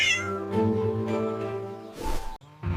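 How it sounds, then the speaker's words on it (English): A cat meows close by, a few drawn-out, whiny meows one after another, with a short pause before the last. "The cat says meow, meow."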